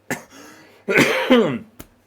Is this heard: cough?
yes